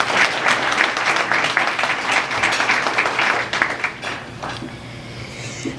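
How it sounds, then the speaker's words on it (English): Crowd applause at a city's State of the City address, sustained clapping from a large audience that thins and tapers off over the last couple of seconds. "A round of applause for all of you as well."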